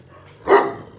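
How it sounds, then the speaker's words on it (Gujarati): Dog giving one short bark, moderately close, against faint background noise. "અરે કુતરાનું નામ રાજી"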